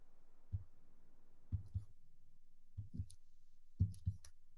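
Computer mouse clicks while setting up a workflow in Okta Workflows, a few faint isolated clicks and double clicks spaced a second or so apart over a quiet background.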